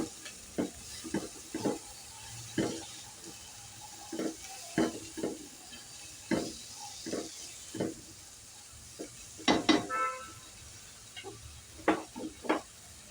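Tomatoes with salt stirred in a frying pan, giving a soft, constant sizzle under irregular scraping strokes of the spoon, with a cluster of quicker scrapes partway through.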